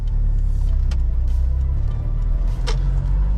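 A Renault Clio Baccara with a 1.7-litre engine pulls away, giving a steady low engine rumble inside the cabin with a couple of brief clicks and rustles, and no talking.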